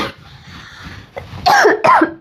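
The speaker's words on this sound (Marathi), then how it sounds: "त्याच्यामुळे मला थोडंसं खोकला वगैरे लागलाय" Several loud, close coughs come in two harsh bursts after a quieter stretch, each bark rough and throaty, with a throat-clearing quality.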